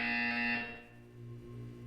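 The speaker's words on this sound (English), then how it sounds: "When you hear the buzzer, look up at the ceiling" Buzzer in the video game Portal 2: one loud, harsh electronic tone that holds for about half a second and then fades into a faint hum.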